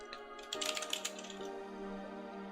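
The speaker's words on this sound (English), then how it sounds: "the reason why I'm typing this out is because the clipboard on this VNC machine is very," Typing on a computer keyboard: a quick run of soft, close key clicks over a steady electronic hum, fading after a second or so into the background drone.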